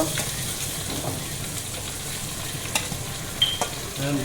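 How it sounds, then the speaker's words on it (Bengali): Ginger frying in a pan for an Eid chicken dish gives a steady, close hiss of sizzling, with a few faint clinks of stirring toward the end. "আদা একটু ভাজা ভাজা দেবেন"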